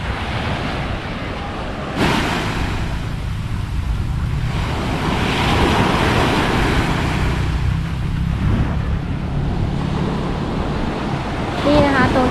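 Sea waves wash onto a Thai beach on a Songkran holiday, a constant roar of surf and wind buffeting the microphone, with swells rising and falling and voices talking faintly underneath.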